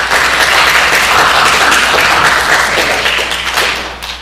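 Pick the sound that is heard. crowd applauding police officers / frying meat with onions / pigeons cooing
crowd applauding police officers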